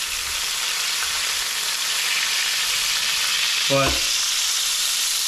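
Deer tenderloin sears in a hot pan with a steady, even sizzle that fills the whole clip, plus a brief clatter near the end.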